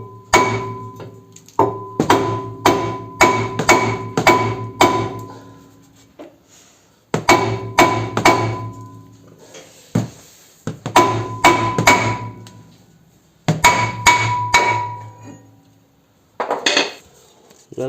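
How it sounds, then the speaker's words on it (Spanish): A fiber hammer strikes a car brake disc on a 2018 Peugeot 5008 in a series of rapid metallic taps, grouped in bursts with short pauses between them, loud and close with no talking. "Pues le pegamos unos golpecillos."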